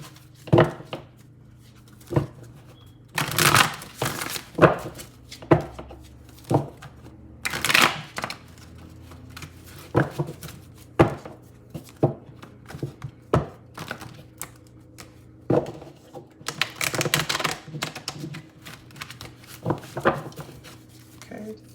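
Tarot cards are shuffled repeatedly: sharp riffling bursts and soft taps in an irregular rhythm, close to the listener, with no one speaking.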